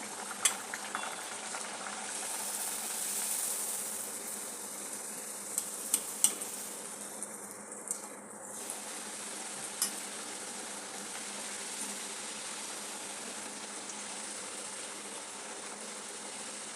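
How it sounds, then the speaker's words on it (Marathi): Puris deep-fry in hot oil with a soft, steady sizzle, broken by scattered light clinks of utensils and a brief scraping stir around the middle. "अशा प्रकारे मी सर्व पुऱ्या तळून घेते"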